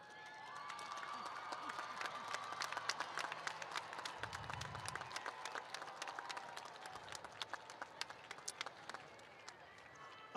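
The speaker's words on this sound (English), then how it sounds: "give them a round of applause" A graduation ceremony crowd of students applauds their parents and loved ones at a 2022 EVIT completion ceremony, a sustained, dense patter of many hands clapping in a large hall that continues without pause.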